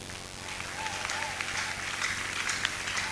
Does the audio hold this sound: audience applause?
yes